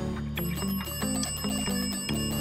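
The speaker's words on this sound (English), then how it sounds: "Just ring the bell for service." A service bell at a restaurant counter is struck again and again in a quick, uneven rhythm, each bright ding ringing close and clear with no talking over it.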